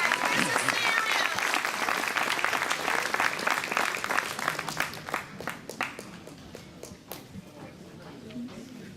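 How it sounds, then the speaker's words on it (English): Loud crowd applause at a Democratic Party gala rings out at first, then thins into scattered individual claps that fade toward the end, with faint murmuring underneath. "Let's give them a round of applause."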